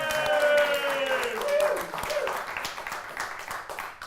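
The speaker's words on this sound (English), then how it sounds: "Should we give him a round of applause, guys?" Audience applause breaks out in a studio setting, a steady, fairly loud wash of clapping with voices and chatter mixed through it, fading slightly toward the end.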